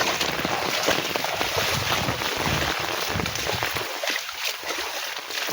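Heavy canal water rushes over its banks into flooded farm fields after monsoon rain, a steady broadband roar with wind buffeting the microphone throughout, easing slightly near the end.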